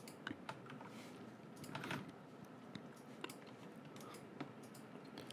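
Rapid, irregular clicking of keys on a computer keyboard, quiet and close, with a brief louder flurry midway and no talking.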